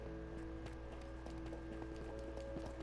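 Horse hooves clip-clop in a steady rhythm while riding through Minecraft tunnels, quiet and low under a constant droning tone, with a loose, even pattern of soft thuds.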